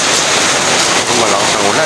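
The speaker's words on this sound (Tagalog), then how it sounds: "Malakas ang ulan." Heavy rain pours steadily during a typhoon before dawn, a dense continuous hiss that stays loud and even throughout.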